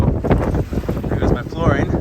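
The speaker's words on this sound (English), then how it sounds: "My first really big wave." A big wave strikes a sailboat in a storm on passage to Malta, a loud close wash of rushing water and wind buffeting the microphone throughout, with a voice speaking over it.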